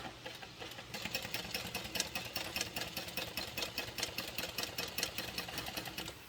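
A sewing machine runs steadily while stitching a line on a garment project, its needle making a fast, even mechanical chatter that is close and continuous throughout.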